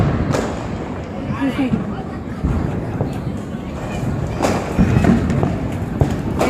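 Diwali firecrackers go off in scattered, sharp bangs and thumps against a busy background, mixed in with people talking.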